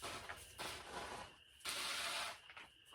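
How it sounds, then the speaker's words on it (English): Soft hissing bursts of a gentle water spray on strawberry seedlings come in a few short pulses, quiet and close, with brief gaps between them. "kind of a gentle spray on them"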